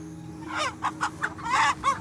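Farm chickens cluck in quick, close bursts, a run of short sharp calls over a low steady hum with no talking.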